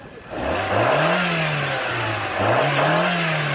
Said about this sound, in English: That is a normal Miata startup. Give it some gas.